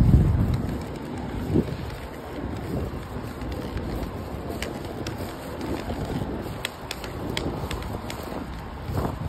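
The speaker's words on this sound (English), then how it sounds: "Misty rain." Light misty rain patters softly and steadily at 2 a.m. in downtown Charlotte, with scattered drops ticking nearby over a faint wind-blown hiss.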